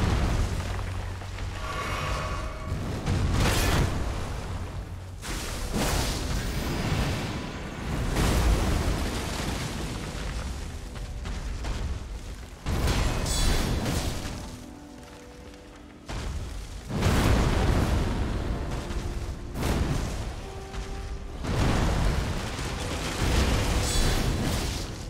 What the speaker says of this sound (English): Oh, the explosion can one-shot me too